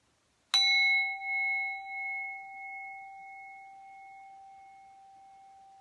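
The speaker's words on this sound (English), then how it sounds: "The important part of the bell ringing is to grab your attention" A single meditation bell struck once, its clear tone ringing out and slowly fading over several seconds in otherwise quiet surroundings.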